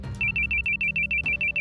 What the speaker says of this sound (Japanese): ふと、内線の着信音が